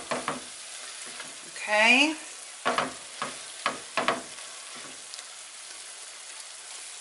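A spoon scrapes and stirs tomato paste into a sizzling mixture in a pan, making a series of short, close scraping strokes over a soft fry. Near the start a voice speaks a single brief word.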